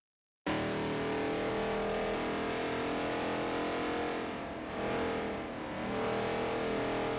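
Rampage SRT8 engine in Forza Motorsport 4, roaring steadily and loud throughout with a brief dip in revs near the end, alone without talk.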